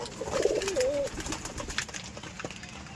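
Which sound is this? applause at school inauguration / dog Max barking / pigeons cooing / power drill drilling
pigeons cooing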